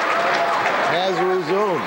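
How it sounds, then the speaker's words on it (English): A crowd applauds and cheers in an ovation at a high school basketball game, a dense continuous roar with a voice talking over it. "they're still giving him an ovation, even though the play"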